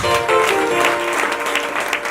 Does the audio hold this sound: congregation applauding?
yes